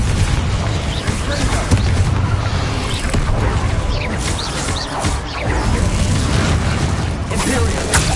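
Fiery Confringo spell blasts from the Hogwarts Legacy video game erupt in a dense, loud barrage of booms and crashes that run continuously throughout, with game voices faintly mixed in.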